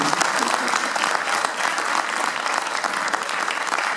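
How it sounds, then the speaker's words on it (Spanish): A large audience claps loudly and continuously at Le Parc, a dense wash of applause with a voice heard faintly beneath it. "para quien pido un aplauso gigante"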